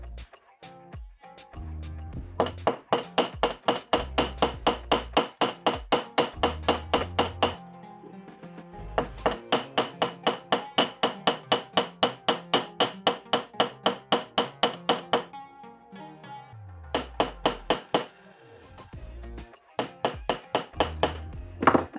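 Rapid, regular hammer blows ring out as metal wire is flattened for a wire-wrapped pendant. Long bursts of sharp metallic taps come up close and are broken by short pauses.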